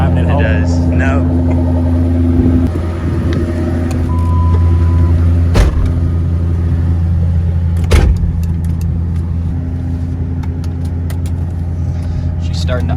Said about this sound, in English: She's starting to idle high.